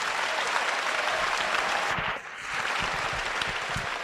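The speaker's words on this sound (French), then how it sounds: "Applaudissez pour Jésus." A church congregation at a gospel service in Mampong, Ghana claps together in dense, sustained applause with a brief dip midway before the clapping swells back.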